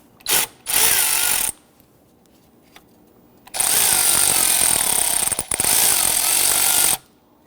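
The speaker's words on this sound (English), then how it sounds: "you want to go ahead and loosen this clamp" A 10mm socket ratchet working a hose clamp loose on a Kia Sorento 2.4L, heard as two short bursts of rapid clicking followed by a longer steady run of clicks and a second long stretch.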